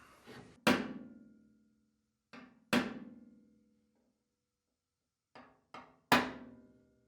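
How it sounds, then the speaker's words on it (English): Steel punch struck with a hammer to mark hole locations for an Altman Easy Latch install, sharp metallic clanks in separate pairs and singles with short ringing decays and quiet pauses between them. "I am simply going to eyeball this with a punch and a hammer"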